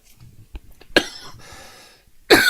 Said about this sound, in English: I've got coughing fit going on.